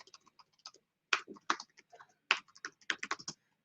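Typing on a computer keyboard: close, quiet clusters of key clicks in uneven bursts, with a brief pause early on, then denser tapping.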